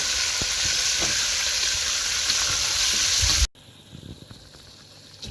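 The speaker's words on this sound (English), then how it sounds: "I'm going to add in the mutton and mix it well." Mutton sizzles and fries loudly in a pan with whole spices, ginger and garlic, a steady close hiss that cuts off abruptly near the end, leaving a quieter low sizzle.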